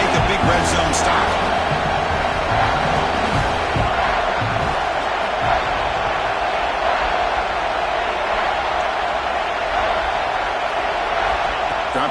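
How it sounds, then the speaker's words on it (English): College football stadium crowd roaring during a defensive red zone stand late in the fourth quarter, a sustained loud wall of cheering and whooping with a commentator talking over it. "And here comes the noise. This crowd is trying to inspire this defense to make a big red zone stop."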